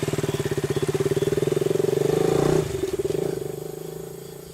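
A motorcycle engine runs steadily at close range, a loud rhythmic idle that swells and then eases off near the end, with faint voices underneath.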